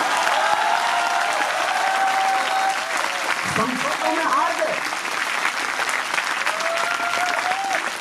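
Audience applause at a Hindi poetry recital (kavi sammelan), a sustained burst of clapping from the crowd lasting the whole stretch, with a voice speaking briefly over it.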